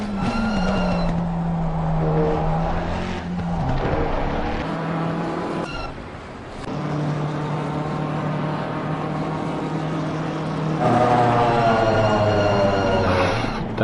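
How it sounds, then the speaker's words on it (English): A GT3 race car in a racing video game at the Barcelona circuit roars through a curve, its engine note dropping and rising through gear changes with tyre skid noise, loud and continuous. "That's a lovely sound that car makes on that curve."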